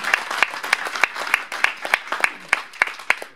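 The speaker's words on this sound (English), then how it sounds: "give them a big round of applause." Applause from the audience at an evening DevOps meetup in Boston, a steady run of sharp, evenly spaced claps that stand out over softer clapping, moderately loud and with no talk.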